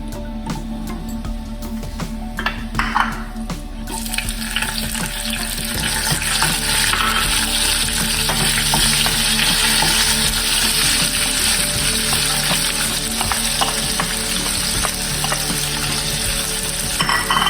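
Spices and a bay leaf fry in a pan with a steady, loud sizzle that swells after a quieter opening, punctuated by scraping stirs throughout, with no voices.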